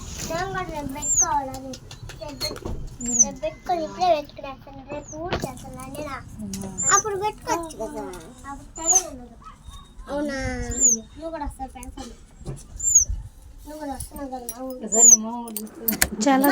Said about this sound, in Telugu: ఇది పిచ్చుక పిల్ల కాకి పిల్ల కాదని చెప్పారు